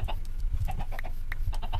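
Minecraft chickens clucking in short, repeated bursts over a steady low background hum, moderately loud and close.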